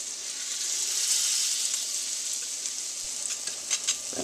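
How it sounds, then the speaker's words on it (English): Butter and garlic sizzle and fry in a pan as a roux is started for a wild trout chowder, a steady close hiss with a few small pops and stirring sounds near the end, no talking. "I'm going to make a roux, put some butter in there, put a couple cloves of garlic,"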